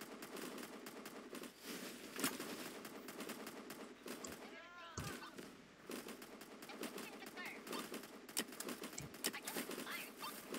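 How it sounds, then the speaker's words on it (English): Artillery fire in the Roblox game Tower Defense X rattles off as rapid repeated booms and bursts over busy game noise, with a voice speaking faintly in the mix. "Artillery fire!"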